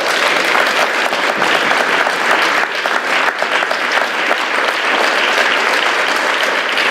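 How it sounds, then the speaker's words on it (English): Audience applause for House District 37 and 38 candidates at a 2018 public forum, a steady, dense round of clapping from a crowd that holds evenly for about seven seconds. "If we can give them all one more round of applause."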